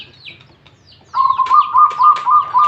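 A zebra dove coos in a repeated, rhythmic trill of soft notes, close and clear, after a quiet start with faint chirps.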